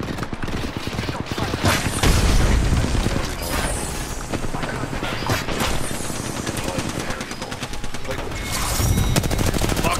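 Frag grenade blast and heavy automatic gunfire in Apex Legends, a loud, dense barrage of rapid shots and booms running steadily throughout with voices partly underneath.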